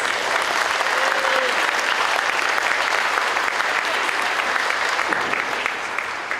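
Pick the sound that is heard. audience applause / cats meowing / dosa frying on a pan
audience applause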